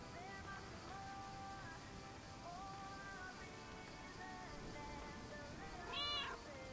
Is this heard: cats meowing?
yes